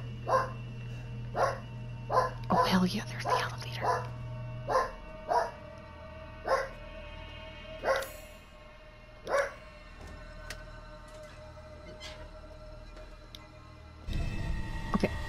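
A string of barks from dogs in Resident Evil Village, repeated at a steady pace and fading to sparse ones, over a low game drone while someone talks briefly.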